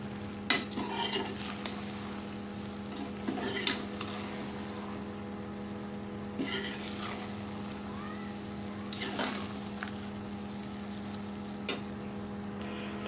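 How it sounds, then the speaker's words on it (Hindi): Okra pieces are stirred and fried with masala in a pan. A steady frying hiss runs throughout, broken by occasional scraping clinks of the spoon. The sound is quiet and close. "भिंडी को करेंगे मिक्स।"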